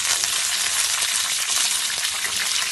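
Cumin seeds and green chillies fry in hot oil, a dense, even sizzle that holds close and loud throughout without any voices.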